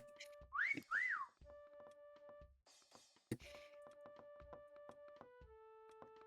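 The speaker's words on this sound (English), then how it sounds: "I heard a whistle" Whistle in the video game Meccha Chameleon, two quick rising-and-falling whistle notes near the start, followed by soft thunks and sustained electronic tones, faint and alone.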